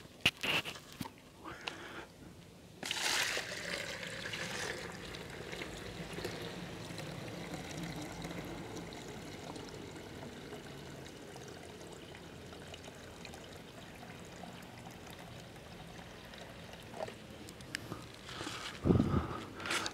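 Water draining off soaked rice seeds, a continuous close trickle and pour lasting the whole stretch. A few knocks and splashes of handling break in near the start and the end.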